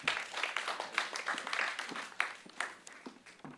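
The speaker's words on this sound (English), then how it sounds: "Please welcome Shri Ajay Sharma with a big round of applause" Scattered, fairly faint audience applause at a Culture 20 Creative Economic Forum inauguration ceremony welcoming Shri Ajay Sharma, with irregular individual claps rather than a dense roar.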